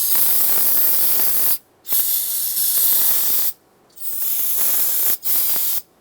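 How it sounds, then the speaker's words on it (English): Brake parts cleaner hisses from an aerosol can onto a brake caliper on a Ford Expedition, loud close bursts of spray broken by three short pauses. "I'll just clean this up with some brake parts cleaner."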